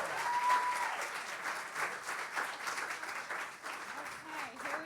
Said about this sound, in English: give her a round of applause as she's going off